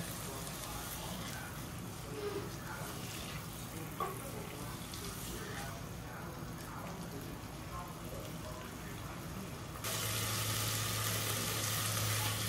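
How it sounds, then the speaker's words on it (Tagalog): Steady sizzling of chicken frying in a pan, a continuous crackling hiss with occasional pops, growing slightly louder near the end. "Medyo palutuin lang natin ng konti yung chicken."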